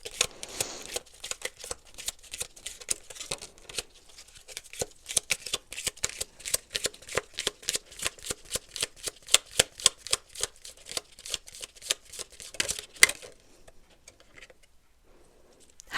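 Tarot cards are shuffled repeatedly, a rapid flurry of crisp riffling and slapping that speeds up, then stops, leaving near silence.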